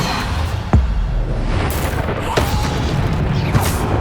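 Bombarda blasting spell explosions in Hogwarts Legacy, a sharp boom followed by a couple more bursts over a rumbling backdrop of combat effects.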